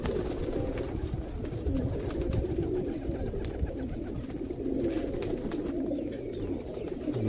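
Sialkoti-breed pigeons cooing in a steady, low, rolling murmur that carries on without a break, fairly near and soft, with no voices over it.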